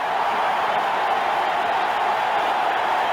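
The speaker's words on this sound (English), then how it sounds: "This crowd, everybody on their feet screaming" Dense, steady roar of a packed stadium crowd on its feet screaming at a 1984 NFL game between the St. Louis Cardinals and Washington Redskins, loud and continuous with no break.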